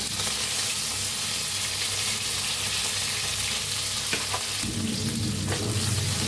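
Garlic and finely chopped tomatoes hitting hot oil with mustard seeds in a pan, a loud continuous sizzle close up that surges in a fresh burst as the tomatoes land, with faint clinks and no talking.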